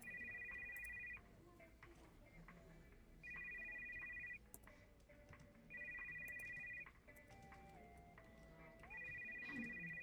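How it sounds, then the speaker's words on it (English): A phone rings in a video game with repeated electronic ring bursts in a regular on-off pattern over a low background hum and game sounds, fairly faint. "I hear the phone."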